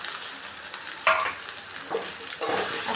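Potatoes drop into a frying pan in a village kitchen and get stirred, sizzling softly throughout with two sharp bursts as the pieces hit the hot oil and scrape around.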